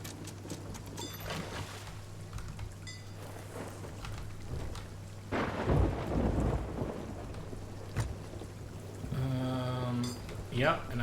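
Stormy weather in the Sea of Thieves pirate game: steady rain hiss with rolling thunder swelling midway, a sharp crack near the eighth second and a rumbling burst at the end, over a constant low hum.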